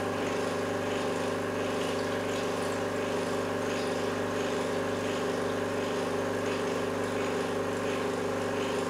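Suction pump running steadily while almond milk is filtered under vacuum, a continuous motor drone with strong low hum and broad hiss, loud and unbroken throughout with no talking.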